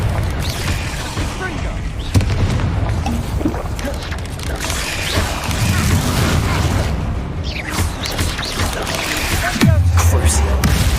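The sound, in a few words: Confringo spell cast, explosive blast in Harry Potter video game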